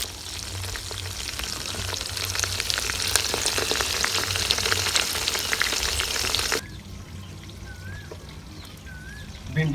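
Okra is stirred and fried in a pan with a loud, steady sizzle and scraping, then drops to a quieter simmer toward the end.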